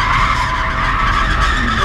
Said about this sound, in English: now you're pretty much spun there, or it was like what we would call a half spin